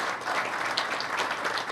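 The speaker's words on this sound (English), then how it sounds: "a great round of applause." Audience applause at a 2016 boardwalk dedication ceremony for Representative Brian S. Dempsey, a steady dense clapping from a crowd that fills the whole short stretch without a break.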